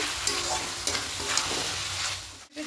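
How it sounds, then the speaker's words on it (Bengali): Potatoes sautéed with spices in a pan for aloo dum, with a steady sizzle and stirring scrapes running throughout and a brief break near the end. "এবার আলুগুলো দিয়ে একটু হালকা কষিয়ে নেব।"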